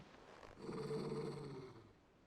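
The dog Torgal in Final Fantasy XVI gives a low, sustained growl that swells and then fades, heard alone and fairly close.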